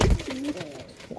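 A pigeon, one of the white fantail-type birds scuffling over another's roost, gives a short, close throaty coo amid faint scuffling.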